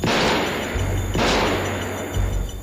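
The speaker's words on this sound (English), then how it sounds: "This time she fires the gun." A handgun fired in a scene from a Halloween film: heavy, booming shots with long reverberant tails, loud and close, over a low rumbling score with no speech.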